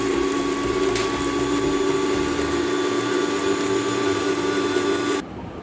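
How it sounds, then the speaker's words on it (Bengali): An electric blender grinds a mustard seed spice paste with a little cold water, a loud, steady whining motor hum that runs continuously, then cuts off abruptly just before the end. "আমি ব্লেন্ডারে পেস্ট করব।"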